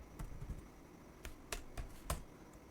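Several separate keystrokes tap on a computer keyboard as a password is entered, irregular and fairly quiet, with gaps between the clicks and no talking.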